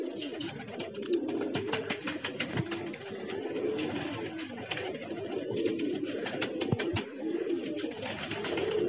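Pigeons returning to a loft after their first flight, with steady close cooing and soft wing flutters over an outdoor background, with no talk.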